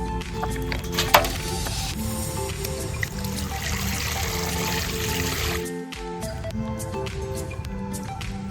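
Fish, large bhetki, being rinsed under a steady stream of running water, a continuous close pour with a brief dip near the end, over a faint background tone.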